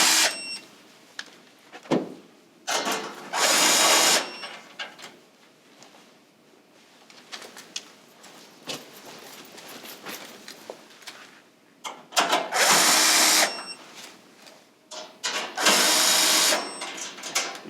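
Power drill with a 5/16 socket backing out sheet metal screws from the top panel of a Weil-McLain SlimFit boiler, heard as several short whirring bursts separated by quieter handling noise.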